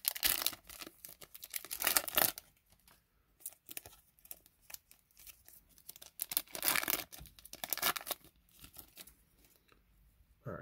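Foil wrapper of a 2024 Topps Chrome Star Wars trading card pack being torn open by hand, two loud bursts of crinkly ripping separated by quieter rustling, close up with no talking.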